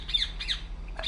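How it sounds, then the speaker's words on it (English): A bird in the Republique video game squawks in two sharp, close cries and then starts a third. The calls come through alone, with no talking. "What the hell's up with that bird?"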